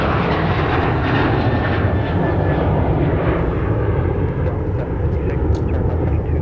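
A United airliner roars down runway 30 left at Minneapolis–Saint Paul on takeoff, a loud, steady, broadband jet-engine rush that fills the whole stretch without letup.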